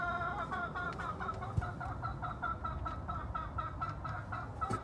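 A game chicken hen clucks in a rapid, steady series of short calls, close and clear over faint farmyard background noise.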